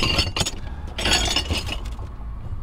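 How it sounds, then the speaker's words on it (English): Broken glass clinks and rattles inside a loaded dumpster, a close, loud series of sharp chinks and shard scrapes in irregular bursts, with no talking. "I don't mind broken glass"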